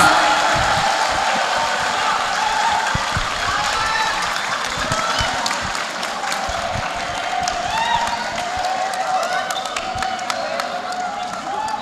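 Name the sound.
audience applause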